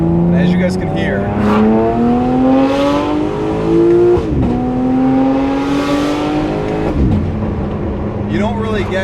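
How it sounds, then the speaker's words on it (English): BMW G8x M4 with S58 engine and Valvetronic valve sport equal length exhaust revving up hard, pitch rising steadily twice with a sharp shift break between pulls, loud and close with a raspy edge. "this is our normal valve sport equal length exhaust system, and as you guys can hear,"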